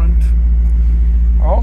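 A 2014 Maserati GranCabrio MC V8 in sport mode idles with a deep, steady low rumble close by. A brief voice sounds near the end.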